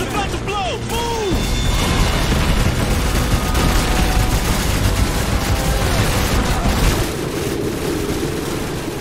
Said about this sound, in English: Tank is about to blow!